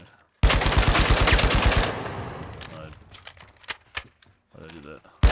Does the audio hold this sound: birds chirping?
no